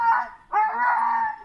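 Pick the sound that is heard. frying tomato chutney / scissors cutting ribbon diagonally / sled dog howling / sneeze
sled dog howling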